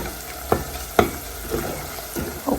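Bacon fries in a pan while being stirred, with a steady low sizzle broken by a few sharp scraping knocks at a regular pace, close and fairly quiet.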